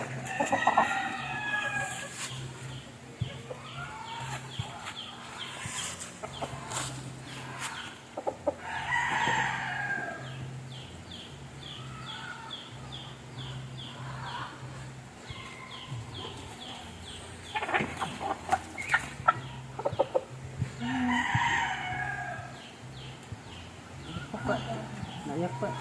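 A rooster crows repeatedly, loud and close, with hens clucking throughout and people talking over the farmyard noise.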